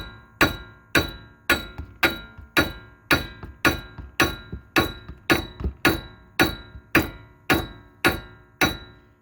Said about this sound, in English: what I'm doing is just tapping the side, and as you can see, we're getting a crack here.